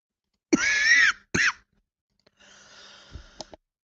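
A streamer coughs sharply twice near the microphone, then a softer breathy exhale or throat clearing follows with a few small clicks, all close and loud against near silence.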